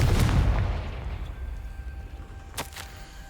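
A Confringo spell in the video game Hogwarts Legacy bursts with a loud booming blast at the start that decays into a rumbling tail, followed by a short sharp crackle near the end.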